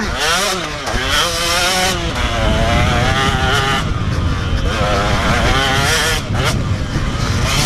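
A KTM 125 two-stroke motocross bike rides hard, its engine loud and close, revving up and down through gear changes as it moves around the track.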